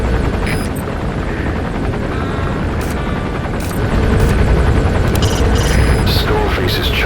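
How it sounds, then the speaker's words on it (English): Skull Face's chopper in Metal Gear Solid V: The Phantom Pain, a loud, steady helicopter rotor drone that swells slightly midway, with brief sharp bursts like distant gunfire layered over it. "Skullface's chopper is there."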